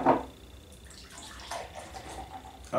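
Einstock Wee Heavy beer poured from a can into a glass: a soft, fizzy, hissing pour that is fairly quiet, with a brief louder burst at the start and at the end.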